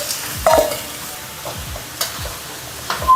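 Minced pork and garlic fry in oil in a hot wok, a close sizzle under repeated spatula scrapes and knocks against the metal at a loose, uneven rhythm, with no talking.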